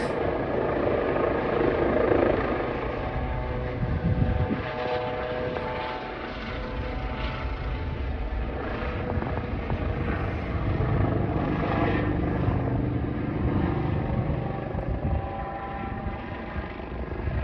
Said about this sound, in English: You get this police copter every night now.